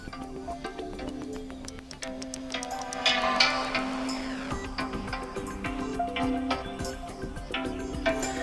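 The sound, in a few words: music playing from smartphone speakers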